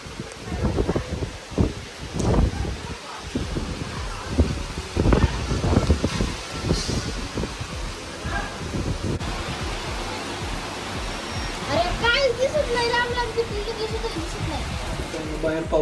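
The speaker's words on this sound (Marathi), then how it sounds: "पाऊस प्लस वारा।" Heavy rain falls with strong gusting wind, a broad continuous wash of noise with rustling bursts, while people talk nearby and some faint music or other indoor sounds come through in the later part.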